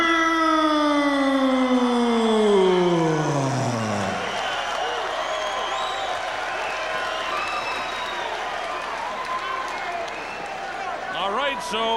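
Boxing arena crowd in Auckland roaring and applauding loudly and steadily, with a rising siren-like tone sweeping up at the start before fading into the sustained cheering.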